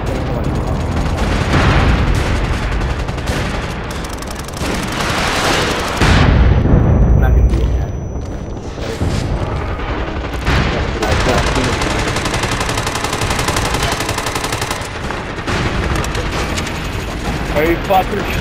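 Heavy gunfire and explosions in the online shooter MAG, continuous automatic fire mixed with booming blasts throughout, loud and dense, with voices talking over the battle.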